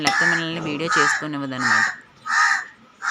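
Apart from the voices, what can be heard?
crow cawing loudly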